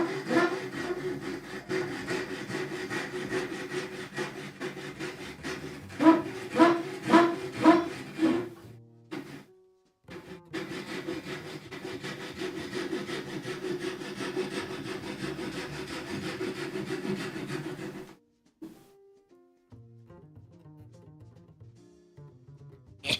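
Hand saw cutting through wood for clamp holders, a steady rasping back-and-forth with a run of sharp rhythmic strokes partway through, then a pause and a few lighter final strokes, close and loud with no talk.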